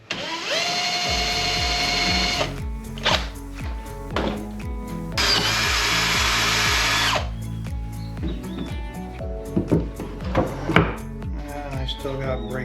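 Power drill boring through wood for a small deck gate, a loud continuous whine in two long bursts with steady speed, broken by quieter knocks and handling noises between.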